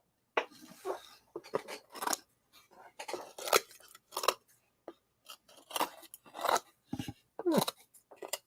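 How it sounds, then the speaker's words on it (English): Scissors trim burrs off a workpiece in a series of sharp, close snips, irregular bursts of crisp cutting clicks with short pauses between them. "That's one way to get burrs off. Scissors."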